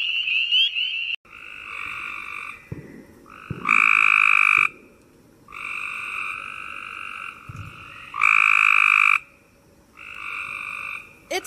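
Cope's gray tree frogs give repeated loud trilling calls in bursts of about a second, with quieter overlapping trills and a faint background chorus between them.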